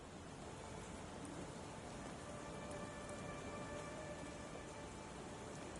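Steady, even rainfall in the Sherlock Holmes The Awakened game, a continuous soft wash of drops falling on surfaces with no breaks.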